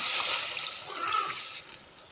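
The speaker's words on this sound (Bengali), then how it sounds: "অনেকক্ষণ আমি কষিয়ে নিয়েছি, এবার পানি দিয়ে দিচ্ছি।" Water poured into a pot of slow-fried country duck curry, a steady splashing gush that starts loud and tapers slightly over two seconds, heard alone.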